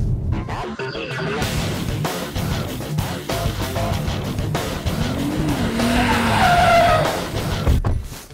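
A Dodge Charger's engine roars and revs hard on a race track, with tires squealing and screeching through the run, loud and close.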